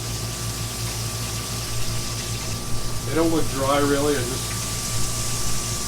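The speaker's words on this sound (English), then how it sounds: "I'm going to give them a spritz here. This is 50-50 apple cider vinegar and water with a little hot sauce thrown in for good measure." Spray bottle spritzing a 50-50 apple cider vinegar and water mix with hot sauce onto pork belly burnt ends in a smoker, a steady misty hiss under a low hum while someone speaks briefly.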